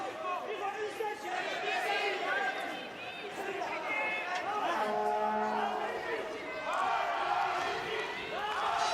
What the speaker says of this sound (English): as you can hear, that crowd are just eagering him on